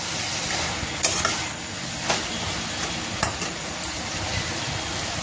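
Prawns and slit green chillies are stirred in a pan, a continuous close sizzle broken by a few sharp scraping clacks of the spatula against the metal.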